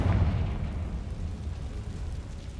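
Confringo fire spell explosion in Hogwarts Legacy, a deep rumbling blast at the start that fades into a low, steady roar, no talking.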